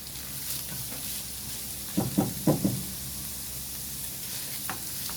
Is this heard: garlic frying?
yes